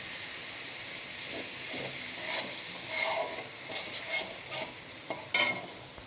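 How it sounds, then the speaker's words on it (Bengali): Spice paste of ground spices, Kashmiri red chilli and a little water fries in oil with a soft, low sizzle, punctuated by faint scraping stirs and small spatters. "মশলাটা একটু ভাজা ভাজা হয়ে গেছে"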